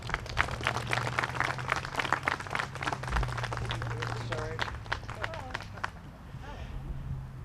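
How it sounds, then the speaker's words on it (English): Audience applause at a ribbon-cutting and valve-turning event: dense, steady clapping from a crowd fills the space, with a few voices and whoops mixed in, tapering slightly near the end. "So a round of applause for our team"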